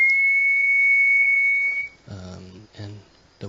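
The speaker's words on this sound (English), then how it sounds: "the whistle he blows is different from any sound of the birds" A single long, steady, high-pitched whistle blast, loud and close, followed by someone speaking briefly.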